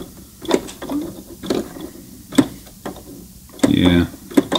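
Hand wheel of a Brother ST371HD sewing machine turned slowly by hand while testing on thick fabric, giving soft mechanical clicks and ticks in an irregular rhythm, close up, with a brief louder whirring burst near the end.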